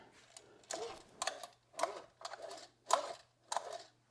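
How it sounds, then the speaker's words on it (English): Recoil starter on a 1984 Honda Odyssey FL250 being pulled and released, a series of six or seven short whirring spins in a steady rhythm, close and fairly faint over a low hum. "the dogs come out and engage, turn this, let it go, spins away"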